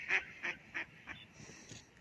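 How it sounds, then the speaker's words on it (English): Ducks by a pond give a short series of about five honking quacks, spaced unevenly and fading slightly, heard at moderate distance over a quiet background. "And them's ducks"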